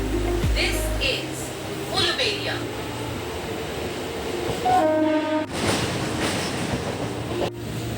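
A train leaving Howrah station rumbles along steadily with a low mechanical drone, a brief horn-like tone midway, and muffled voices beneath.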